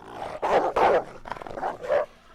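Town dogs barking in a pack as they attack, several sharp close barks in quick succession with short gaps, loud and clear with no talk.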